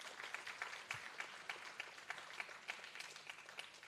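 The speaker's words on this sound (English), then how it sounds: "A big round of applause to each one of you all" Sustained audience applause at an indoor dance performance venue, a dense steady patter of many hands clapping with small rhythmic surges, moderately faint and continuous throughout, no one talking over it.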